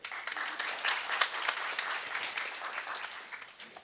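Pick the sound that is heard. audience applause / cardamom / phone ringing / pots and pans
audience applause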